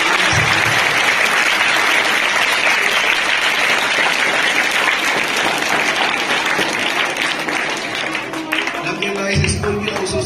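Students at an Urdu primary school in Nanded applauding loudly, a dense, sustained roar of clapping that eases slightly near the end while a voice speaks over it.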